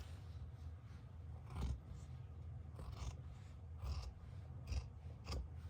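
Scissors cut across fabric for a Christmas sock gnome with several quiet, separate snips and rasps spread over a few seconds against a low background hum.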